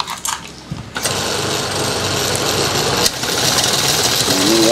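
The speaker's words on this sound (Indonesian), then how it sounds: "Udah saya rakit begini, ini menggunakan mesin 1/4 HP ya" A power sprayer SC22 driven by a 1/4 HP dynamo motor whines loudly and steadily after starting abruptly, with a sharp jump in level partway through as the load changes.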